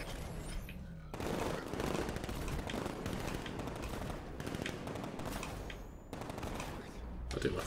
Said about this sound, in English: I was shooting at a tank